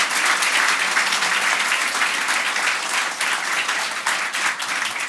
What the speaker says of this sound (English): one more big round of applause for the Tenasias